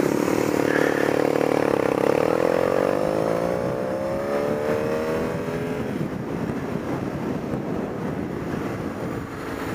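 A motorcycle engine runs steadily while riding, its drone shifting in pitch as it changes speed, loud and continuous under heavy wind buffeting, no talking.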